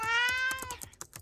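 A cat meows in a horror video game, a single clear, close, drawn-out meow that fades, followed by a few faint soft ticks.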